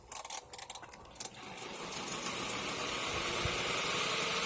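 A twin tub washing machine runs its spin cycle, starting with a few uneven knocks before settling into a steady, rising whirring hum that carries on alone and close by.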